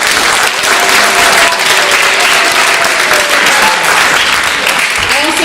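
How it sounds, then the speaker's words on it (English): Audience applause for two student announcers at a school science, art and talent expo, a steady, loud wash of clapping from a crowd filling the room throughout, with some voices mixed in. "Can we hear a big round of applause for them?"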